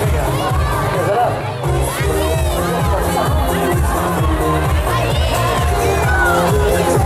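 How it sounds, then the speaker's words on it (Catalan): A crowd at a basketball club presentation for a special-abilities team gives an ovation: loud, continuous cheering and shouting that fills the space without pause. "Vinga, doncs ja us han ovacionat"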